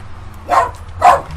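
A dog gives two sharp barks close by in a summer garden, about half a second apart, with quiet background in between.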